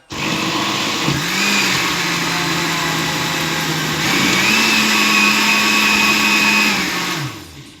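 A blender motor runs loud and close for the whole stretch with a steady whine. Its speed dips and then climbs about a second in and again around the four-second mark, and it winds down at the end, with no voices.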